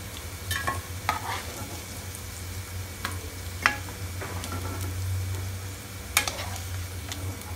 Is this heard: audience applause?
no